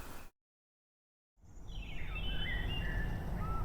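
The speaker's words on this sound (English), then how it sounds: "Ooh, you get to hear the birds again in this room. I love that bird sound." Ambient birdsong in the video game Undertale: a few thin chirps and trills over a quiet outdoor bed, fading in after a short silence.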